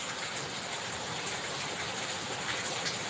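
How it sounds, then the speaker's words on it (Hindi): Heavy rain falls in Mumbai as a dense, steady, broadband hiss and rush that stays even and loud throughout, with no voices over it. "हर जगह बहुत बारिश हो रही है।"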